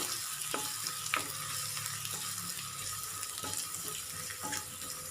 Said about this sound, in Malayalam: ഇനി ചെറിയുള്ളി ഒരു ഗോൾഡൻ ബ്രൗൺ കളറാകുന്നത് വരെ ഒന്ന് വഴറ്റിയെടുക്കണം